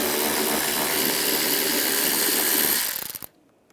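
A power tool with a 7mm socket runs steadily and loudly while backing out a mirror screw on a 2013-2016 Dodge Dart, then winds down and stops near the end.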